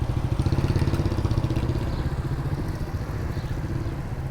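A motorcycle engine runs steadily after being started and ridden in second gear, a close, loud, pulsing mid-pitched drone with rhythmic clatter throughout.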